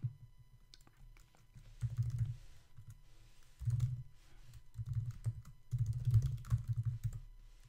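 Fingers typing on a computer keyboard in irregular bursts of soft clicks, with short pauses between runs of keystrokes, close and fairly quiet.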